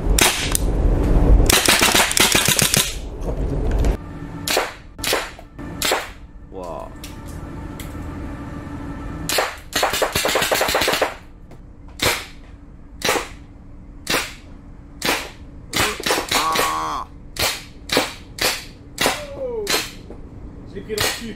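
A MilSig M79 blaster running at 400 FPS fires a series of loud, sharp pops outdoors, single shots spaced a second or two apart with a few close clusters, while people talk in French between them.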